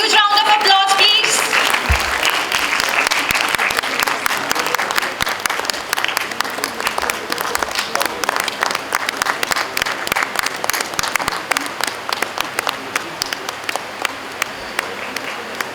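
An audience at a college book celebration gives a long round of applause that starts full and dense, then gradually thins into scattered individual claps.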